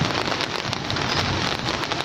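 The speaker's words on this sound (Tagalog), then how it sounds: "Kasi umuulan ngayon" Steady rain pattering outdoors on garden plants, including a budding flower, forming a continuous dense hiss with fine scattered drops and no voices.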